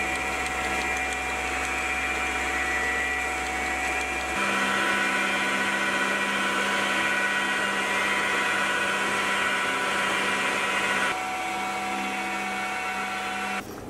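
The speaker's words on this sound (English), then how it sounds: "I'll use the milling machine to square up the work." A milling machine whirs steadily as it squares up a mini lathe part clamped to wood, a loud continuous motor whine whose pitch and tone shift abruptly twice as cutting starts and eases.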